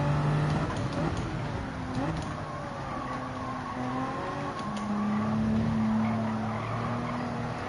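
A race car in Gran Turismo 7, racing at Spa on wearing tyres, skids off into the gravel with wavering tire squeals over a constant engine roar, with no talking.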